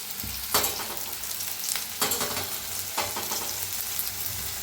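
Ingredients roast in hot oil in a pan while baingan bharta is cooked, producing a steady sizzle broken by a few sharp stirring scrapes roughly every second.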